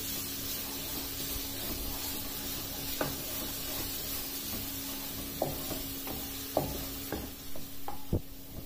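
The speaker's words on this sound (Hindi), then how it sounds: "अब लहसुन और अदरक के पेस्ट को 2 से 3 मिनट तक इसमें फ्राई होने देना है।" Garlic ginger paste fries in oil with a steady, close hiss and sizzle, broken by scattered light clicks of a spoon stirring the pan.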